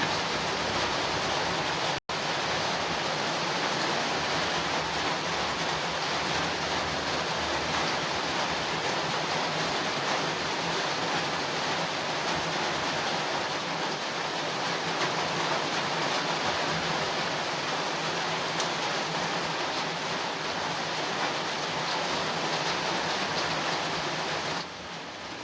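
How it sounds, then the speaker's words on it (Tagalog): Steady broadband hiss of rain falling, continuous and even throughout, with one brief click near the start. "Umuulan na po dito ulit sa amin."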